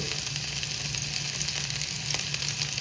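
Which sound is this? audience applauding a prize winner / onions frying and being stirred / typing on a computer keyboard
onions frying and being stirred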